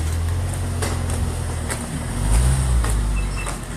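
A car passes close by on a main street in Northport, New York, its low engine rumble swelling loud near the middle and fading out over steady street noise.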